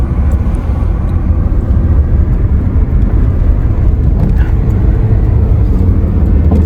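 A car driving on the road for a two-hour trip, giving a steady, loud low engine and road rumble that continues without a break and without talk.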